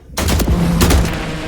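Rifle fire in The Last Caretaker video game: a loud, sharp report right at the start and another burst about half a second later, each followed by a booming tail, with no talking.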